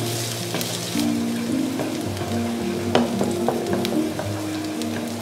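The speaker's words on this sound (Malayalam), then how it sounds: "ഒപ്പം 1/2 ടീസ്പൂൺ ഓണിയൻ ചോപ്പ് ചെയ്ത് ഒന്ന് സോട്ടേ ചെയ്യാം." Chopped garlic and onion sauté in hot olive oil in a pan, a steady close sizzle and crackle with occasional stirring scrapes, over a faint, low background hum.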